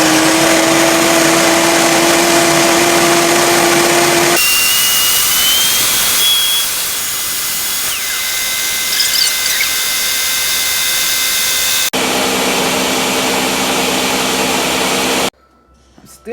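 A Ninja blender runs with water inside, a loud, steady motor roar that holds close and unbroken, its tone shifting partway through before it cuts off abruptly near the end.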